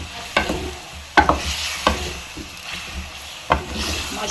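Garlic ginger paste being stirred and fried in a karahi for white chicken karahi, with a soft constant sizzle broken by several sharp scraping strokes of the spoon against the pan.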